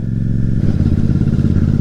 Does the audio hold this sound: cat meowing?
no